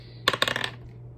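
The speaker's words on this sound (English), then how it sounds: "let's go ahead and roll the dice and see how many we're doing this month" A single quick rattle and clatter of dice rolling across a hard surface, several tight clicks within about half a second, close and fairly quiet with no talk.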